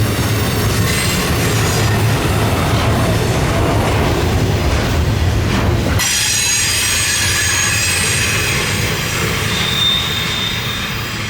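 A Norfolk Southern freight train rolls past in heavy snow, a loud, close, continuous rumble of wheels and cars with squealing wheels throughout, fading slightly near the end.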